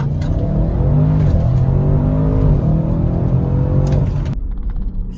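Audi RS6 with a 4-liter V8 accelerating hard, a loud, close engine roar with rising gear-pitch sweeps and a brief shift dip before the revs cut off near the end.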